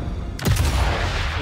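A sniper rifle shot in the video game Sniper Elite 5 cracks sharply once, loud and close, then a long rumbling tail rolls out behind it.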